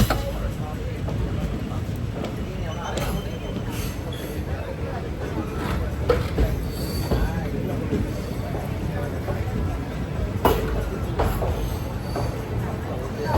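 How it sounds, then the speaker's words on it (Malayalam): A train rolls into Tirunelveli Junction railway station with a steady low rumble and periodic wheel clacks, under background crowd babble on the platform. "ട്രെയിൻ ഇതാ തിരുനെൽവേലി ജംഗ്ഷൻ റെയിൽവേ സ്റ്റേഷനിലേക്ക് എത്തുകയാണ്"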